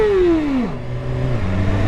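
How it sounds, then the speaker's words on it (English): A car approaching and passing on a road, its engine note loud and near, then falling steadily in pitch as it goes by in under two seconds. "Oh, car coming"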